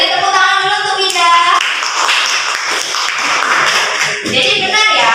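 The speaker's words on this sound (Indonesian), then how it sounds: "beri tepuk tangan dulu untuk Wida." A classroom group clapping hands in applause during a micro-teaching lesson, a brisk burst of claps mixed with a voice speaking over it, close and fairly loud.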